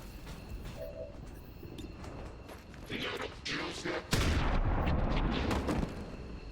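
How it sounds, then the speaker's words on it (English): Shotgun blasts in XCOM 2 aimed at a Rocketeer enemy: a heavy boom lands mid-clip over a dense, noisy battlefield bed, with someone talking over the gunfire. "Let's give this Rocketeer the old shotgun to the mouth."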